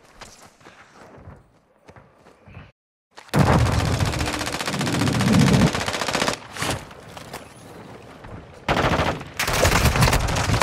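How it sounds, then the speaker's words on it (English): Automatic gunfire in Call of Duty, a quiet stretch giving way to loud, dense, sustained bursts that pause briefly and resume near the end. "Oh, I'm getting shot."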